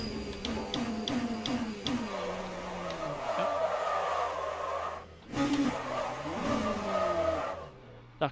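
Race car in the Le Mans Ultimate racing game locking its rear wheels and sliding, tire squeal mixed over a steady engine drone that dips around five seconds and then surges back, with a short sharp burst at the very end.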